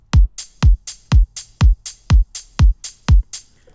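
A simple electronic drum loop at a steady tempo: deep kick thumps alternating with short bright hi-hat ticks, repeating evenly with nothing else.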